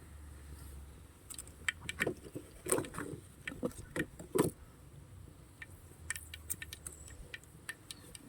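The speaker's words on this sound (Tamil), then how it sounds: "கடுகு பொட்டிருச்சு பொரிஞ்சிருச்சு" Mustard seeds splutter in hot oil, tempering for a home-cooked meal, giving scattered sharp pops and crackles at a moderate level in irregular bursts, with no talking.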